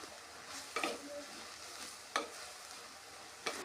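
Beans and grated coconut being stirred in a pan, with a few sharp scraping strokes at a steady spacing and a soft sizzle underneath, close and fairly quiet.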